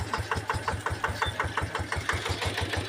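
A Kubota KRT140 4x4 small tractor engine chugs nearby in a fast, steady putter while tilling weeds in a lime orchard, each firing stroke distinct, with no voices.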